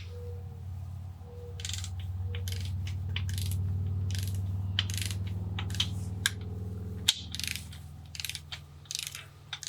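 A ratchet tightens the cylinder head bolts on a Volvo B230 engine with rapid, close bursts of pawl clicking, repeated stroke after stroke over a low steady hum, the clicks growing denser toward the end.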